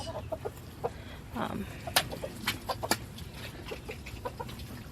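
Chickens cluck and chatter in short, scattered bursts, fairly close, with soft rustling and low background noise between the calls.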